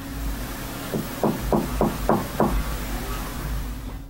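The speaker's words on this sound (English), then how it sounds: "The knocking sounds polite yet urgent, definitely human." Knocking from behind a painted-over door: five evenly spaced, fairly sharp knocks in a quick row, with a fainter single knock after, over a low steady hum.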